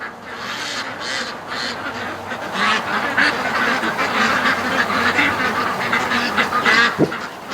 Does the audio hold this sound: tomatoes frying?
no